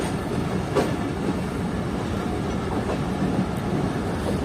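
The Sukkur Express, an overnight train on its run from Jacobabad, makes a steady, close rumble on the rails with faint rhythmic clatter from the wheels, continuous and even throughout with no voices.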